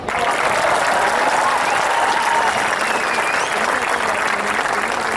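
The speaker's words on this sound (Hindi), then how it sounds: "अच्छा लगे तो दोस्तों आपकी तालियां चाहूँगा।" Audience applause at a national poetry gathering at a university: loud, dense clapping from a large crowd that holds steady from start to finish, with a few whistles and faint voices mixed in.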